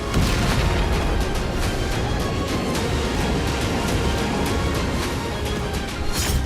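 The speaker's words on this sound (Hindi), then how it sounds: "खेरसोन में रूसी सेना ने ग्रैड रॉकेट लॉन्चर से धावा बोला।" A Russian Grad rocket launcher firing in Kherson produces a dense, loud, unbroken roar of overlapping whooshes and rumbling blasts, with rapid streaky bursts throughout and no voices.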